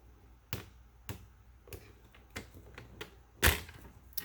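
Cardstock scored along a score line on a scoring board for a card, heard as a series of sharp, spaced clicks and scrapes, close and fairly quiet, with one louder snap near the end.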